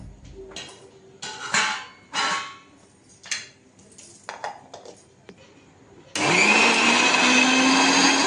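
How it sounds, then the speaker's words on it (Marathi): A mixer grinder starts up after some clattering of the jar and lid, then grinds roasted spice masala with toasted coconut in a loud, steady, close whirring drone that lasts to the end. "बघा आता मसाला ना आपण मिक्सरमधून काढून घेऊ"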